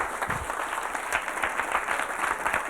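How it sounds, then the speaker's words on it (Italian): A studio audience on an early-1980s Italian satirical TV show applauds steadily, a dense, even wash of clapping held for a few seconds with no talk over it. "facciamo un applauso a questa meravigliosa"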